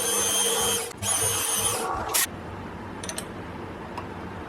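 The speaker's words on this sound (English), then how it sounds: "I'll get in and deburr those" A small power tool deburrs tiny steel parts for a model steam engine, a loud high whine in two bursts, then a sharp squeal before fading to faint shop noise with a few light clicks.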